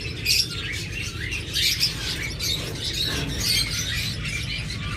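Pet birds in cages at a shop selling pairs of American yellow budgerigars, lovebirds, finches and cockatiels chirp and tweet continuously, a dense overlapping chorus of high calls with occasional squawks and wing flutters.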